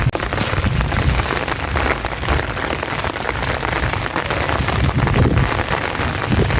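Heavy rain pours down on a flooded farm during a typhoon, a dense, steady hiss of drops drumming on surfaces, continuous and close without pause.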